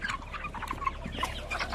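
Young chicks about 32 days old peep and cheep in a steady, overlapping chorus of high chirps close by, with no voices over them.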